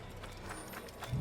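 Horses galloping in the video game Assassin's Creed, a quick run of muffled, rhythmic hoofbeats over a steady low rumble, moderately close and brief.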